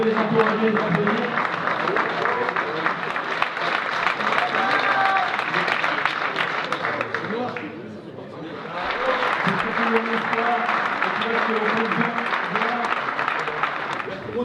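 An audience applauds the participants of a road rally in the Sarthe, sustained and loud clapping that dips briefly midway and then resumes at full strength.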